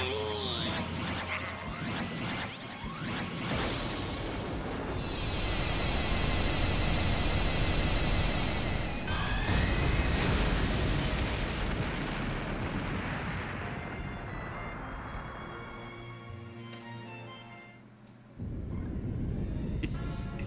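Deep, quake-like explosion rumble from the Disgaea 5 video game, a loud sustained roar with whooshing blasts that swells, briefly drops out, then resumes with heavy low-end rumbling.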